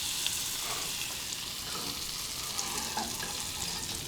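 Croque madame sandwiches frying in a Le Creuset pan, a soft, steady sizzle with faint crackles running throughout, fairly quiet and with no voices.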